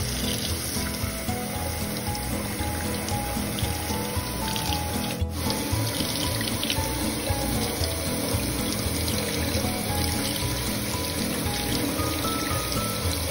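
Broccoli being washed under running tap water in a kitchen sink, a steady hiss of flowing water with splashing that continues unbroken throughout.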